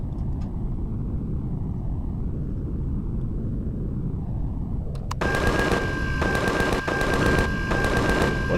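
Rapid automatic gunfire bursts in the sci-fi survival game Empyrion Galactic Survival, loud and repeated over a constant deep engine rumble.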